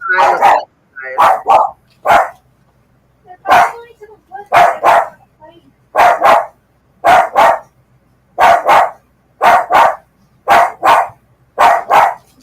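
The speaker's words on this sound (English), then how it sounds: "What's that dog barking at?" A dog barks repeatedly and loudly close by, about a dozen sharp barks in short bursts separated by brief pauses, with no other sound between them.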